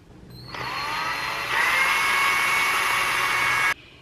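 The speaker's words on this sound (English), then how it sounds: "a hard time getting the drill to punch through the plastic" A power drill boring holes through a plastic tote, its whine starting abruptly, stepping up in pitch and loudness partway through, then cutting off sharply; close and loud.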